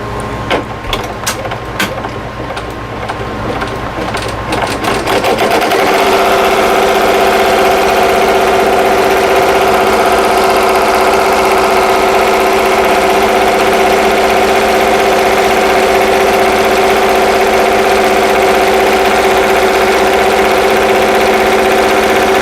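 A sewing machine stitches a placement line onto stabilizer for a bag. A few clicks come first, then a loud, steady mechanical hum runs unbroken for a long stretch.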